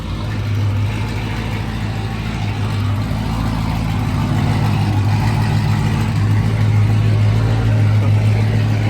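A Dodge Hellcat's engine runs after a tune-up with a loud, steady low rumble close by, holding a fairly even drone throughout with no voices.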